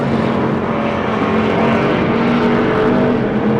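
Stock cars race on the Pearsonville track in California with a loud, continuous engine roar and droning revs. The sound stays steady and close throughout, with no talk.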